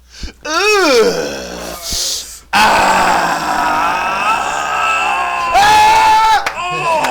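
A person screams loudly in wavering, pitch-bending wails with brief breaks, followed by a sustained harsh yell and more screaming near the end, very close and raw.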